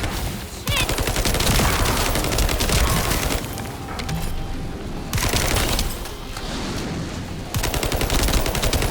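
Sustained rapid gunfire from The First Descendant, loud dense bursts of shots rattling in long stretches with brief gaps between volleys, close and relentless.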